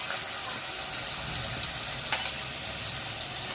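Sliced onions tipped into hot oil in a pan with curry leaves for a bitter gourd tamarind curry, sizzling and hissing steadily and close up throughout, with no talking.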